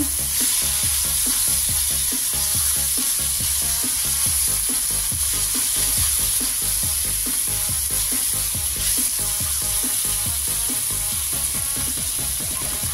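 Steady loud sizzling and frying as boiled bamboo shoots and bak kwa are stirred in a hot pan, with a continuous hiss and faint rhythmic scraping of the stirring throughout, no talk.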